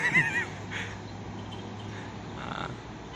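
A short, wavering horse whinny rings out at the start, followed by quieter snorts and faint outdoor sounds.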